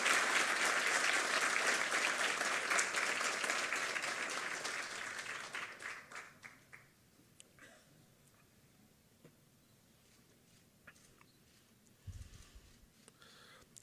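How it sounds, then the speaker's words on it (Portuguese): Applause for honorees at a court's special ceremony awarding the Centenary Collar, loud and sustained for about six seconds, then fading to a quiet room with scattered stray claps. "Uma salva de palmas aos agraciados"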